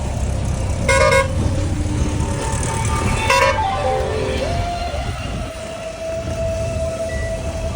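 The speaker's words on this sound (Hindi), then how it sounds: "गाड़ी आ रही है" A truck or other heavy vehicle comes along a road by a quarry area, with loud traffic rumble throughout and a couple of bright horn-like toots or tonal blasts early on, followed by a steady tone.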